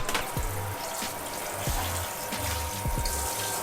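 Water pump in a converted camper van runs while water sprays steadily from a shower head, a continuous hiss of rushing water with low intermittent pump thumps underneath, close and fairly loud.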